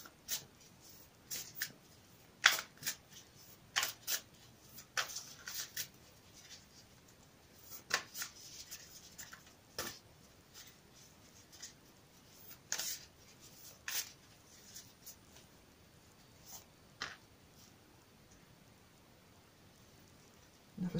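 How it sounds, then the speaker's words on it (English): Quiet bursts of card shuffling, crisp riffling flutters and taps spaced irregularly across a long stretch, close by with no voices. "I'll shuffle them again for you on camera"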